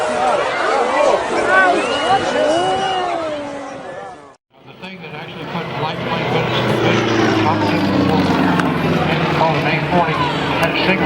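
A light propeller plane flies at an airshow, its engine a loud, steady drone. Voices chatter over it at first, then there is a brief dip before the engine noise swells back and holds.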